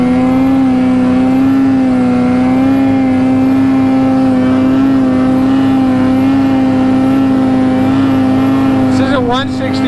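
A 165 snowmobile engine held at a steady high pitch while the sled holds a wheelie in snow, loud, close and sustained with a constant droning whine throughout.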